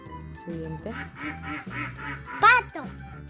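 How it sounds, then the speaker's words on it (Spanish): A duck quacks in a rhythmic series of nasal calls during an animal sound guessing game, fairly close and moderately loud, with a louder burst near the end. "Pato. Muy bien."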